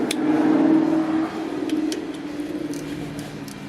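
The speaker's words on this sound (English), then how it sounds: "Nice sounding Camaro." A Chevrolet Camaro revs loudly as it drives past, its engine tone swelling early and then easing away into a fading rumble, with faint ticks in the background.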